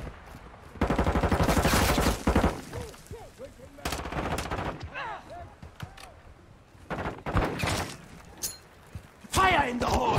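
Bursts of automatic gunfire and scattered single shots from Call of Duty Modern Warfare 2 multiplayer, loud and repeated across the stretch, with a player shouting and talking over the fighting.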